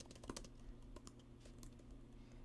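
Typing on a computer keyboard while filling in a home listing ad, heard as soft, close, scattered key taps over a faint low hum.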